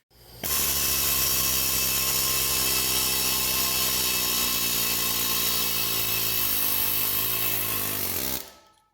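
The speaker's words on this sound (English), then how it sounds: "I'm going to heat it one more time, and then I'm going to hit it with my air chisel" An air chisel hammers a heated, rusted bolt on a John Deere, making a loud, continuous, buzzing chatter that holds steady for about eight seconds with no talking.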